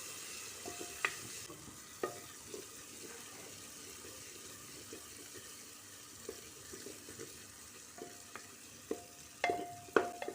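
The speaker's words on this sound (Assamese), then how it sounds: "মই ইয়াত সৰিয়হ দিম ইয়াত সৰিয়হ দি দিলোঁ দি পেলাই অলপ লৰাই দিছোঁ" Mustard seeds fry in a pan with a steady low sizzle, while scattered clinks and scrapes of stirring grow busier toward the end.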